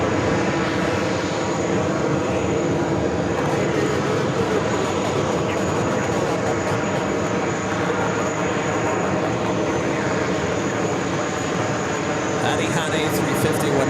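An Airbus A350-1000 jet taxiing and turning at JFK airport gives a loud, steady engine roar and whine that holds throughout with little change.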